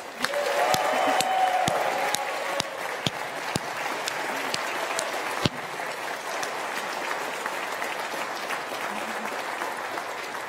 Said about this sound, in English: How about a great round of applause for Renee?